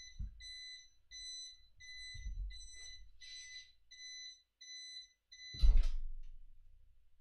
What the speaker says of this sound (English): you heard an alarm going off, which is actually my desk. I have an electric desk